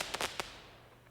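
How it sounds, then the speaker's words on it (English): A few sharp cracks in quick succession, then a fading rumble, like firecrackers or small fireworks popping at a distance, on a farm at night. "it comes in handy when our son Jake sets off his fireworks."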